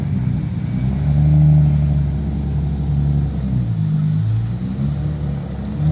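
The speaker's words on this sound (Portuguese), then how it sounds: "Lembra do vídeo do Supra lá, um Supra saindo ali, ó." Toyota Supra pulling away, its engine a low rumble that swells briefly as it accelerates, then settles into a steady drone at moderate distance.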